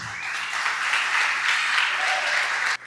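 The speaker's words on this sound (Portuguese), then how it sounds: "Glória a Deus, dá um aplauso ao Senhor Jesus." Church congregation applauding in praise during a sermon, a steady, dense wash of clapping sustained throughout before cutting off abruptly at the end.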